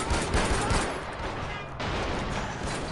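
Gunfire from a weapon in Far Cry 4 during the Valley of the Yetis, dense rapid bursts filling the clip with a short break partway through, loud and continuous with game noise behind.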